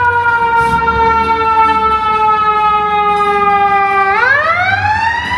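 A loud, wailing ambulance siren holds a steady tone, then sweeps upward, close by over rumbling Chicago street traffic.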